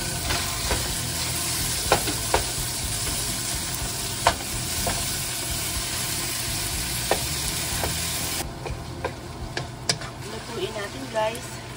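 Ground beef and tomato with onions and garlic stirred in a hot pan, steady sizzling with repeated scraping strokes and clinks of the spoon; a voice talks over it.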